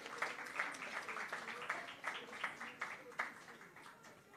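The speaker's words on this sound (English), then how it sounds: "A final big round of applause." A crowd at an event gives a final round of applause, clapping in a fairly quiet, irregular patter that softens toward the end, with some voices mixed in.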